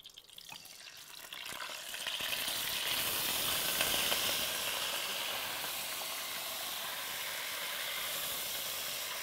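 Lamb meat frying in hot oil in a pot for Tunisian pasta, a steady, close sizzle that swells after a brief start and keeps hissing evenly, with no voices.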